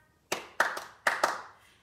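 Hands clap along to a children's song at a baby and toddler session, five sharp claps in an uneven rhythm, close and alone.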